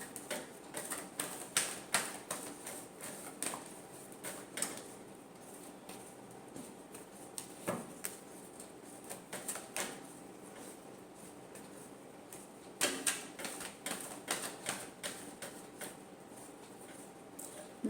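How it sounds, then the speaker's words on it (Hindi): Tarot cards being shuffled by hand for a Scorpio love reading, heard as bursts of quick, dry papery ticks and riffles clustered close by, with short pauses between runs and no talking. "Last shuffle."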